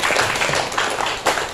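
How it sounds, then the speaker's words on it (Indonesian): A room full of people clapping their hands at a community learning festival and workshop, a dense steady patter of many hands that swells briefly near the end. "Oh, tepuk tangan"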